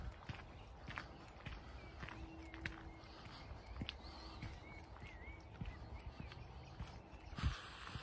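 Horses walking at an easy pace, hooves clip-clopping in a steady irregular patter over an outdoor background, moderately close with no talk.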